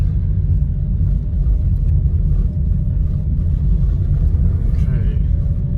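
A two-wheel drive car drives slowly along a muddy road, its steady low engine rumble and tire noise loud and continuous throughout.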